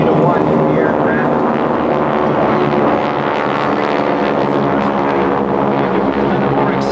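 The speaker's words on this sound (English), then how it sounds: "Now let's continue to watch the aircraft." Vintage World War II GEICO Skytypers warplanes at the Jones Beach airshow produce a loud, steady propeller-engine drone that holds throughout, with an announcer's voice running over it.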